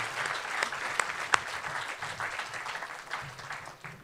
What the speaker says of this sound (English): a round of applause for the work that they've done.